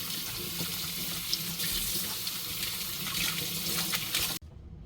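Tap water runs steadily into a sink while food is washed, a close, even splashing rush that cuts off abruptly near the end, with no talk.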